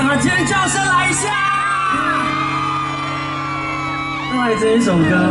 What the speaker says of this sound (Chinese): 全场的尖叫声来一下！